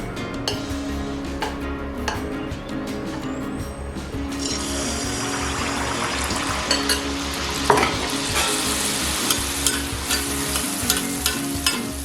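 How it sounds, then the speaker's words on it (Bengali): Malpua frying in hot oil on a lowered gas flame, a continuous loud close sizzle and bubbling that swells midway, with light clinks and stirring scrapes scattered through. "এবারে তেলের মধ্যে মালপোয়াগুলোকে ভেজে নেওয়া"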